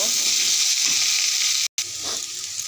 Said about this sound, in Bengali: ইঁচড়গুলো একটু হালকা তেলে ভেজে নেবো